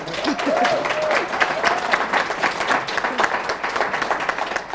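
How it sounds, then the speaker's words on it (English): An audience at an award lecture on role models and mentors claps for an awardee, with dense, close, continuous applause and a brief voice near the start. "yes, and you can clap for him."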